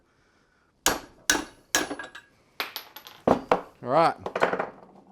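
A steel hammer strikes repeatedly to drive a wedged socket out of a Toyota Celica RA23 front steering assembly, with several sharp metallic knocks at close range followed by clattering and a brief spoken remark.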